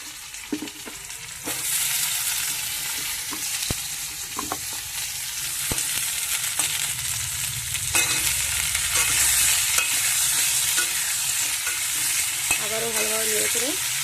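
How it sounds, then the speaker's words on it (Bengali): Papaya pieces fry in hot oil alongside potatoes for a singi fish curry, a loud continuous sizzle with intermittent spatula scrapes and clinks against the pan as the vegetables are stirred. "আবারও ভালোভাবে নেড়ে করে তেলের সাথে পেঁপেগুলো একটু ভেজে নেব"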